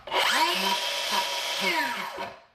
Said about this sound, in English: it does come with an electric brake, so immediately when you release the trigger, it's going to completely stop